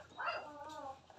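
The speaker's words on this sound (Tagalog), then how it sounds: "Kaya nang ingay ng aso." A dog gives a short, mid-distance bark or yelp that trails into a whine, heard alone in a quiet indoor setting at night.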